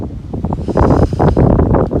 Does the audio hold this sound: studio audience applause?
no